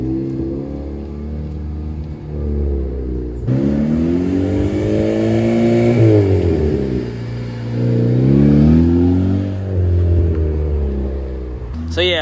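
A turbocharged, K24-swapped car engine revs repeatedly, its pitch climbing and falling through several sustained pulls, loud and close, with a brief rise at the end.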